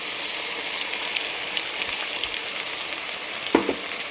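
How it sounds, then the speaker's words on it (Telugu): Potatoes fry in a pan for tomato rice, a constant close sizzle and crackle throughout with one brief clink of a utensil near the end. "బంగాళదుంప కొంచెం మగ్గే వరకు వేయించుకుంటే సరిపోతుంది"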